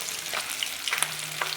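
Pond fish sizzling in a pan of hot oil, a brief close crackle and hiss with small spitting pops.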